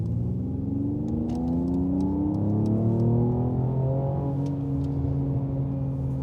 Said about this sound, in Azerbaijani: Bizim qəşəng burble'larımız var, belə sonda partlamalarımız da var, özünə məxsus.